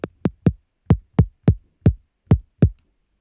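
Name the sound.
synthesized kick drum built in Ableton Operator, high-pass filtered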